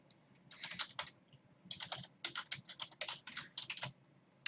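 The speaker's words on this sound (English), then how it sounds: "this keyboard is killing me" Rapid clicky keystrokes on a computer keyboard, typed in uneven bursts with short pauses between, close and fairly crisp.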